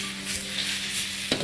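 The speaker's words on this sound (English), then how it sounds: "You can hear it by the sizzle." Steady broadband sizzling from food frying in a hot pan, continuous and close, with a brief clatter near the end.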